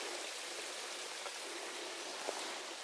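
A small stream of water beside a hiking trail on the Appalachian Trail near Erwin, Tennessee, heard as a steady, soft rushing and trickling wash with no voices.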